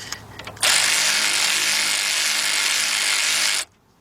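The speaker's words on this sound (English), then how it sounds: "14 millimeter shallow socket. I'm using my big bill ratchet." A big bill ratchet with a 14 mm shallow socket runs on the caliper bolts of a 2013 Jeep Patriot, giving one loud, steady, close-up burst of ratcheting. It lasts about three seconds after some quiet shuffling, then cuts off sharply.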